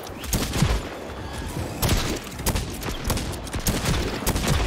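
Rapid bursts of gunfire from a new weapon in the co-op shooter Second Extinction, loud and continuous with repeated sharp volleys and heavy low impacts throughout.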